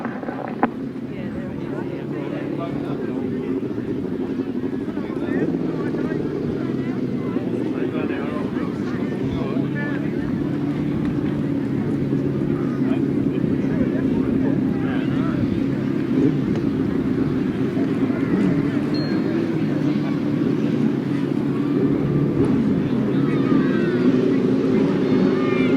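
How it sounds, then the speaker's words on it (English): Sidecar motorcycles racing on a grass track toward the first turn, a dense, steady engine roar heard from a distance under a loud race commentator, with wind buffeting the microphone. "Right-hand sidecars, race 15 in the programme. Hurtling down towards the first turn."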